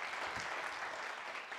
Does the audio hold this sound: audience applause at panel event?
yes